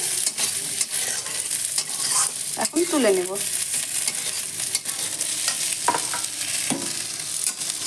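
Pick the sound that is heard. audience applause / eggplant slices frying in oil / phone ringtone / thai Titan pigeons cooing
eggplant slices frying in oil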